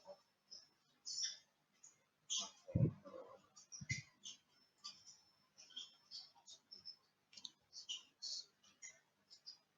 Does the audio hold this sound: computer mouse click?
yes